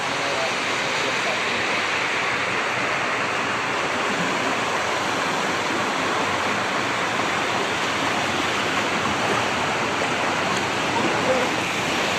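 Steady rushing of a swollen mountain stream in a forest during continuous heavy rain, a dense unbroken wash of water noise at even loudness throughout.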